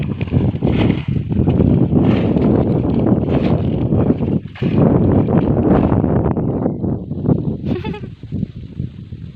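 Cool wind blows through a forest and buffets the microphone in loud, gusty rumbles that rise and fall for several seconds, with brief lulls between them.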